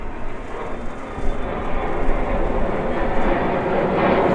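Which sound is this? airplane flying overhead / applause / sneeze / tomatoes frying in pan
airplane flying overhead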